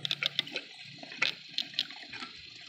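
Fuel poured from a spout can into the tank of a 2018 Snapper SP90 walk-behind mower, a close liquid gurgle and splash with repeated glugging bursts, heard alone without speech.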